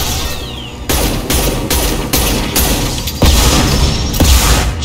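Enemy machine guns fire in bursts during Mass Effect 2 combat, rapid rattling volleys with heavy booms that come in repeated loud waves, dense and close, with no talk over them.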